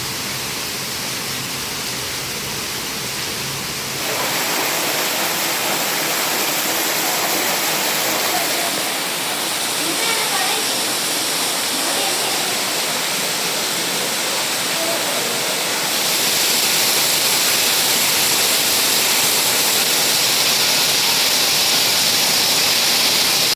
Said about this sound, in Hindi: भरूच के कशक सर्कल पर भारी बारिश के कारण ड्रेनेज का पानी मुख्य सड़क पर भर गया